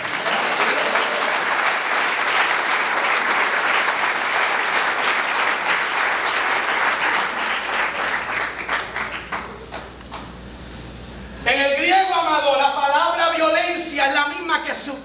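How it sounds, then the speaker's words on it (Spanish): Audience in a church sermon breaks into sustained applause and clapping for about ten seconds, fading toward the end before a voice begins speaking over the hall. "¿Quién se atreve a dar un aplauso a él?"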